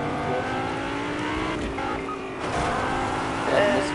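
A video game car engine hums steadily at close range as the vehicle pulls away and revs up near the end, with faint voices in the background.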